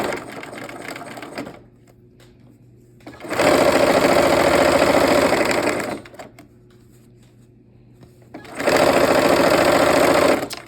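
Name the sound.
sewing machine sewing quilt rows together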